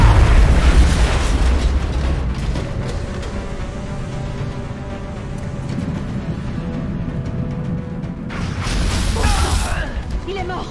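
A grenade goes off in the video game XCOM Enemy Within, a loud low boom that opens the clip and then settles into rumbling game noise, with a second swell of blast noise near the end.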